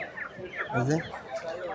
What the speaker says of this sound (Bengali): এই যে বড় বড় মুরগি দেখেন।